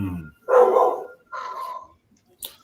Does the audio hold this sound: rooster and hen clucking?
no